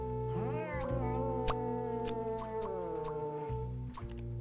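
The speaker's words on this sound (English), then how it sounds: "I can hear the cat noises in the background." In the video game Duck Detective, a cat meows in a few drawn-out, wavering cries, fairly quiet and close, with small clicks and drips around them and no talk.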